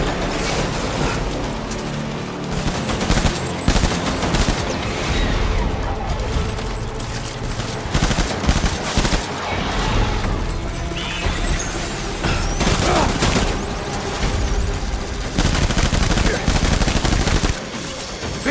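Sustained gunfire crackles through a Death Stranding firefight, dense overlapping bursts of shots and impacts running loud and continuous throughout.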